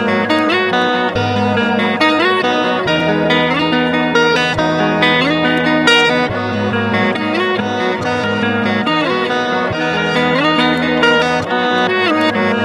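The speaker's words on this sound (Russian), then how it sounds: "это та же самая же гитара, только в реверснутом формате" A reversed guitar part processed with Shaper Box swells backward into each note, washed in effects, sustained and continuous over a low droning bass layer.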